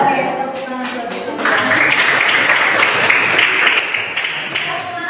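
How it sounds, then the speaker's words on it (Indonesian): Classroom applause during a teacher-training lesson, a broad steady clapping from a group of students that swells after the first second and holds loud through the clip, with some voices mixed in. "Oke, tepuk tangan buat kita."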